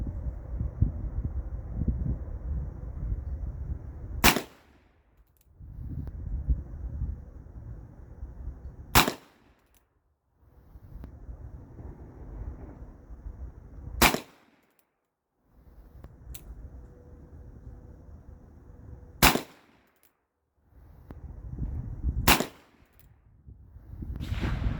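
A big single action revolver fires .350 Legend rounds, five loud, sharp shots spaced roughly every five seconds, each standing out clearly over a low background rumble.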